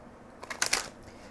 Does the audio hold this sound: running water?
no